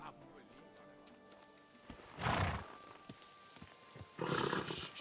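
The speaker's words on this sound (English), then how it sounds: "Easy, good horse." A horse whinnies loudly twice in Kingdom Come Deliverance 2, each neigh a bright rising burst, over steady in-game background sound and faint hoof clops.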